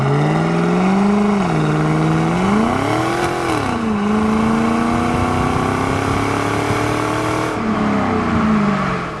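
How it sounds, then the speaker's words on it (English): A 2000 Pontiac Formula WS6 with an LS1 V8 and automatic transmission pulls hard on a test drive, its engine note climbing and dropping through loud, steady revs, with no voices over it. "We're warmed up good, so we'll get in the throttle here some."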